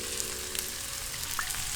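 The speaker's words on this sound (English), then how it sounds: "I'm gonna let that sizzle for 2 minutes" Eggs sizzling in a pan as part of fried rice, a steady quiet frying hiss with faint pops and crackles, no voices.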